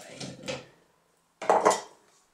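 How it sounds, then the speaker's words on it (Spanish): Ice cubes dropped into a glass for a tropical whisky cocktail with crushed pineapple, in two quick clattering bursts of cubes knocking against each other and the glass, close and clear, with no voices. "Echamos hielo."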